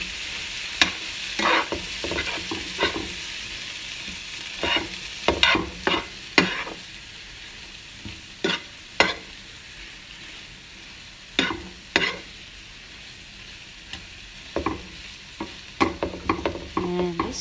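Fried eggplant and potatoes with lemon being stirred in a pan, irregular spoon scrapes and clatters over a soft continuous sizzle, close and clear.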